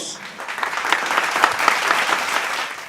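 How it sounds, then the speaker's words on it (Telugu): A close burst of hand clapping from a small group of people at home, dense and even for about three seconds before tapering off. "చప్పట్లు కొట్టండి"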